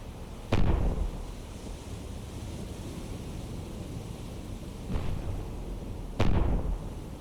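A naval CIWS close-in weapon system fires at an incoming missile in the submarine game Cold Waters, heard as three short, loud blasts of fire separated by a quieter rumbling lull.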